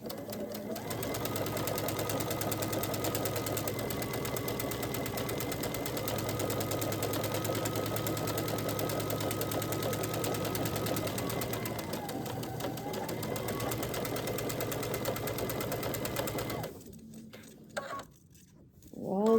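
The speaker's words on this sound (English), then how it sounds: "I'm going to take it back over to the sewing machine, and I'm going to stitch down this side at a 1/4 inch." Sewing machine stitching a quarter-inch seam on a disappearing hourglass quilt block, running in a steady whirring rattle for about seventeen seconds before stopping, followed by faint handling noises.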